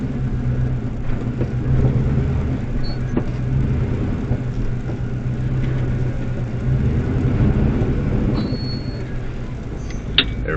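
A vehicle drives through mud with a steady low rumbling engine drone and continuous churning, close and fairly loud throughout, with a faint click near the end.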